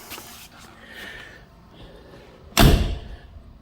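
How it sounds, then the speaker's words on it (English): A solid door closes on a classic 1970s-era Jaguar, a single heavy thud near the end, preceded by faint rustling and quiet background movement. "Doors seem to close like bank vaults,"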